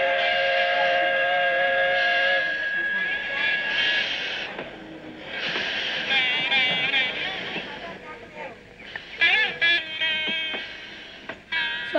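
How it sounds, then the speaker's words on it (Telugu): A steam train pulling out of a station sounds a long whistle, heard as sustained tonal blasts over rumbling rail noise, with wavering tones and scattered voices around it. "ఈలోగా ట్రైన్ కదిలింది"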